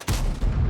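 A tank cannon fires in a tank video game, one sudden heavy boom with a dense low-end blast that rumbles on for the rest of the moment.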